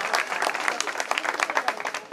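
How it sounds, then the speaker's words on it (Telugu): Dense, steady clapping from a large audience at a political gathering, loud and sustained with no pauses. "ఒకసారి గట్టి క్లాప్స్ కొట్టండి"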